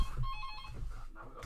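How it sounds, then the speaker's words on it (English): A telephone rings in a home, a bright repeating electronic trill heard close and fairly loud, with a short gap before it resumes near the end. "we've got the phone ringing now"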